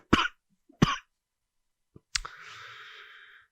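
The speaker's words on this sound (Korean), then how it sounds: "갑자기 기침이 나네" Two short, sharp coughs from a man lecturing indoors, followed after a pause by a third cough that trails into a drawn-out raspy throat clearing or wheeze, all close to the microphone with silence between.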